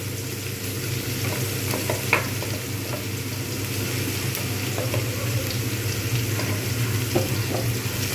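Snake gourd fries in a generous amount of oil in a pan over medium-high heat for a Bengali potato and lentil-dumpling dish. The sizzle is steady and crackling, with occasional stirring clinks and scrapes, and there is no talking.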